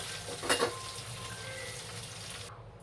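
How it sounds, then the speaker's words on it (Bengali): Tangra fish frying gently in oil over a low flame, a soft even sizzle with one brief louder spatter early on, heard close and alone until it cuts off abruptly. "আঁচটা আমি কম করে রেখেছি যাতে না মাছগুলো চড়বড় করে ফেটে ওঠে।"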